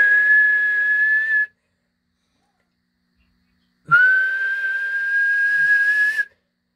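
Two steady high-pitched whistle tones, the first cut off after about a second and a half, then silence, then a longer second whistle.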